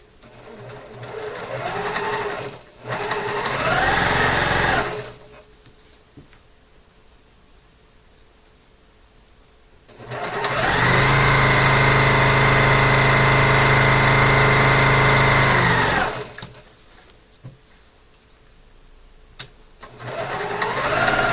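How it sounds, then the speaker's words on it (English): A sewing machine chain-pieces quilt half-square triangles, stitching a quarter inch from the seam line: two loud steady runs of motor whir, one short and one about six seconds long, with quiet pauses between them and no talking. "we're going to sew 1/4 inch on either side, just the same as the smaller half square triangles"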